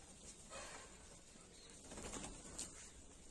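Birds, apparently pigeons, feed on scattered apple pieces outdoors in the morning, with faint cooing and soft wing flutters over a quiet hiss, no clear talk.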